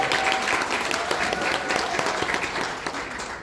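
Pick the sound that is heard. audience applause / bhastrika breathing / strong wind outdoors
audience applause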